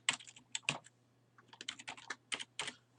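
Someone types a password on a computer keyboard in quick, uneven bursts of light key clicks with short pauses between them, heard close and quiet over a faint steady hum.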